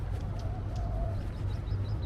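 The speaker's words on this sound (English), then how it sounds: "Now look at all the birds looking for their seafood this time of the morning." A flock of birds over harbour water in the early morning, hunting for seafood: faint, scattered calls and chirps above a steady low rumble.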